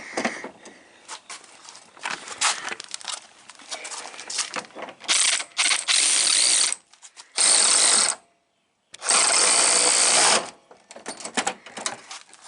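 A ratchet tightens a bolt on a 2007 Toyota Sequoia radiator, giving rapid clicking runs broken by brief pauses and a few longer, louder bursts of clicking close by.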